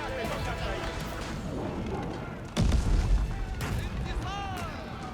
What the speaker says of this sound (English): Villager gets sniped by that bombard or by the culvert